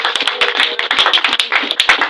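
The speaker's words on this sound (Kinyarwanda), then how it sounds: "Niba ubyumvishe nkomera Yesu amashyi." A congregation claps for Jesus during a church sermon, a dense burst of many hands striking together in quick, steady rhythm, close and loud, with no talking.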